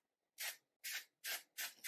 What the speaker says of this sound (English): I'm going to spray the Magic Root Cover Up this way.